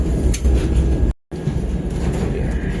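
A Vande Bharat train on the Dehradun–Anand Vihar route rolls slowly at cautionary speed through forest, giving a loud, steady low rumble with rail noise and a faint higher whine, broken by a brief dropout midway.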